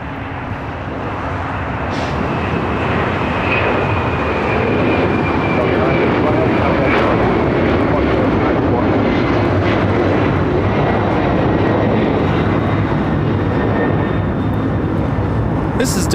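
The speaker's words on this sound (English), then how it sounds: "This is Delta Airlines 951 taking off to JFK on a 767 300ER." A Delta Airlines Boeing 767-300ER taking off from LAX, a loud continuous jet engine roar with a faint high whine, steady and close throughout while people talk over it.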